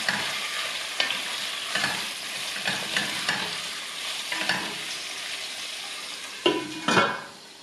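Pork cooks in its own juices in a covered pot with new cabbage, giving a soft continuous simmering sizzle broken by periodic scraping stirs, with a couple of louder clanks near the end.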